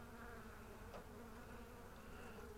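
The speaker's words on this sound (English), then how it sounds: "these bees here are really talking. You can hear them." A swarm of bees drones in a steady, dense buzz that holds at an even level throughout, with no voices over it.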